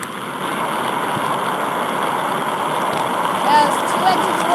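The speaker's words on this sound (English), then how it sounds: "That was 2 engines roar." Tinysat batch 2 rocket engines roar at liftoff as a continuous, even rush of broadband noise at moderate loudness, swelling slightly near the end.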